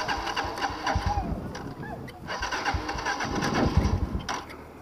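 A motorcycle engine running in first gear on a road in Yemen, a mid-pitched throbbing engine that revs up and down under nearby talk.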